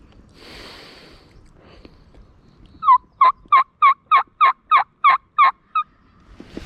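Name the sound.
wild turkey gobbling, Oregon gobbler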